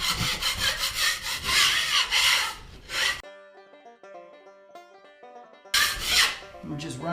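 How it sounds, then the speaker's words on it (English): Spatula scraping lumps off a dried plaster ceiling patch, a dense harsh rasping in quick repeated strokes, close and loud, breaking off into a stretch of soft tonal background music before the scraping returns. "we'll just run over with a spatula and scrape down the ceiling as much as we can"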